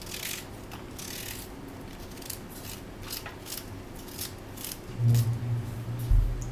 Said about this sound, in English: I'm cutting in some onions